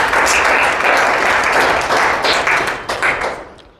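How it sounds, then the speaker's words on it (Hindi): A seated audience at an AWPL business plan presentation gives a loud burst of clapping that holds steady, then thins and fades over the last second. "तो एक जोरदार ताली बजाइए"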